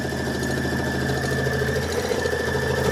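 Baby Lock Avenir sewing and embroidery machine running steadily at close range, a continuous even mechanical whir with a fine rapid stitching rhythm and a faint constant tone, no voices over it.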